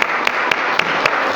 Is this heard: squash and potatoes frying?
no